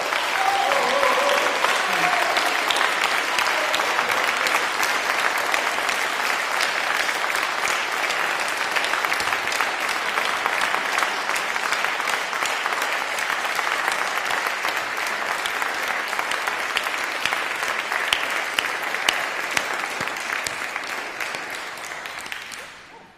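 A large crowd at a rally for Julian Assange gives sustained, dense applause after a speech, loud and continuous for over twenty seconds before slowly tapering at the end, with a few voices calling out beneath it.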